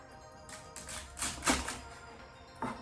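A kitchen knife chops the ends off celery stalks on a cutting board: a few soft, close crunching cuts with light taps in between, quiet and with no talk.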